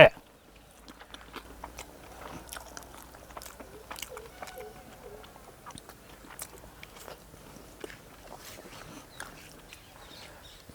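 Quiet, close chewing and biting while eating chicken curry made with chukka kura and sour onion, soft wet crunches and clicks repeating irregularly, with a faint rustle in the background.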